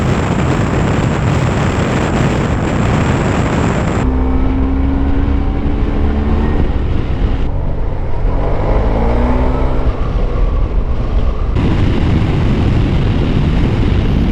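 A Yamaha TMAX maxi scooter ridden on wet roads after snowmelt gives a loud, continuous engine drone mixed with heavy wind rush, its pitch shifting as the rider speeds up and eases off, with no voices.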